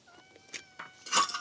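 A cat meows in a few short, high, thin mews, close by, with faint background noise between them.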